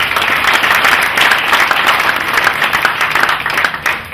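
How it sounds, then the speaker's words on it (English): Applause from an audience at a Tea Party rally: dense, steady clapping that fills the space and holds at a constant level throughout, with no voices rising above it. "Let's give them a big round of applause."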